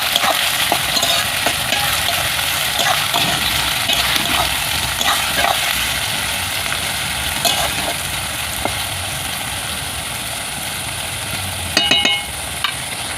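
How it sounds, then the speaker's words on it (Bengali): Chopped onions frying in hot oil for a country-chicken curry, a steady close hiss and sizzle with occasional stirring scrapes, continuous and fairly loud with a brief clatter near the end, no voices. "তো এখন আমি কুচনো পেঁয়াজটা দিয়ে দিই। তো লাল লাল করে ভেজে নেব।"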